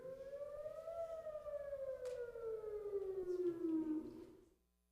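A civil defense air raid siren wails loud and steady with a slowly falling pitch over several seconds, then cuts off into near silence; no one speaks.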